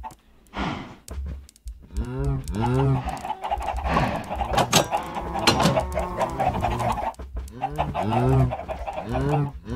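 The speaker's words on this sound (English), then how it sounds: "I hear the chickens." Minecraft chickens cluck and squawk repeatedly, close and busy, with a voice talking over them.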